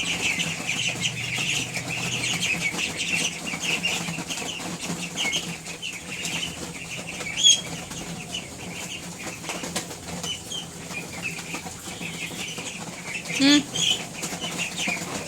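Ducks on a duck farm call and chatter steadily over a busy background, with occasional louder squawks and brief wing flaps.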